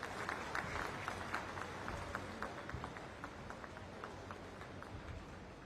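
Standing audience at the Kushinagar airport inauguration applauds to welcome the Prime Minister, a dense, continuous wash of clapping heard at a moderate distance for several seconds.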